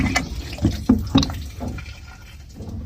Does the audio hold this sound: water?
yes